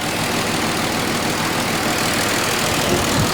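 A Mercedes W210 with a faulty engine idles in a steady, dense rumble that fills the whole stretch, loud and close, with no voices over it.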